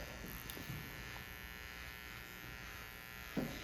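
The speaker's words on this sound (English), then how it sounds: "Now I am going to clean this up with the trimmer." Electric hair trimmer buzzing steadily and close by while tidying a woman's spiky pixie cut, a continuous hum with a couple of brief louder touches near the end.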